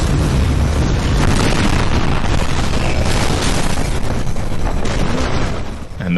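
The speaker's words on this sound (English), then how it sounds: "the blimp that is kind of going crazy with all these rockets ends up firing at the building you're in" Rockets from a rampaging blimp pound a building in a Bioshock Infinite level, a loud, continuous barrage of booming blasts and rumbling debris that holds steady for several seconds before easing off at the end.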